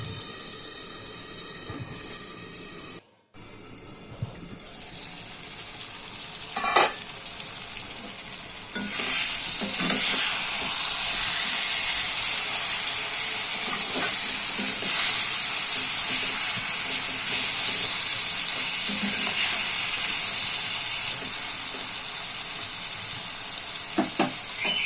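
Desi tangra fish curry (jhal) simmers in a covered pan with a steady hiss and bubbling sizzle that briefly cuts out early on, then grows fuller and louder and stays constant.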